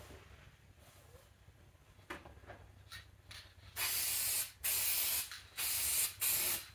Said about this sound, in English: so I'm just gonna spray it with glue